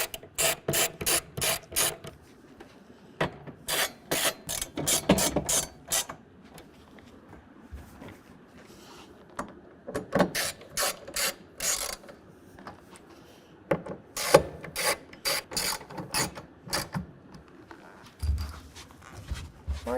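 Ratchet wrench tightening bolts on a BAK Revolver X4TS tonneau cover fitted to a 2022 Toyota Tundra, heard as several bursts of crisp, close clicking separated by short quiet gaps, with no speech.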